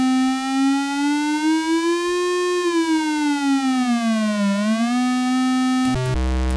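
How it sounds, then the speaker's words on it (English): A bright, buzzy square wave tone from a modular analog synthesizer holds steady, glides up and back down in pitch, then settles before a brief clatter cuts in at the end. "I'm just gonna change this over to the square wave and see how this sounds"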